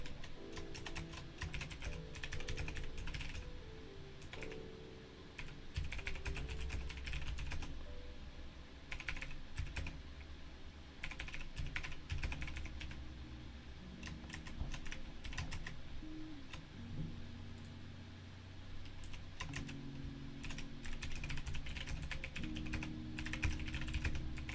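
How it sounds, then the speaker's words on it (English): Someone types steadily on a computer keyboard for a long stretch, quiet rapid clicking in bursts with short pauses, over low background music or hum and without speech. "I'm just typing everything I explained"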